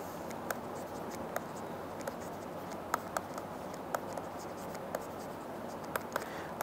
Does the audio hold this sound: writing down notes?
yes